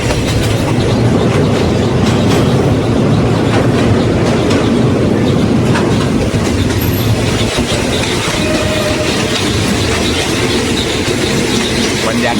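A train rumbles loudly and close by at Thung Song Junction station in Nakhon Si Thammarat, Thailand, wheels clattering steadily over the rails with occasional squeals, continuous for the whole stretch.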